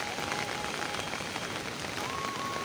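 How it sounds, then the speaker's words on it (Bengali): Heavy rain pours steadily onto a street where water is pooling, a dense, constant hiss of drops that stays close and loud throughout with no voices. "তো চরম বৃষ্টি পড়ছে, বাড়ি যাচ্ছিলাম"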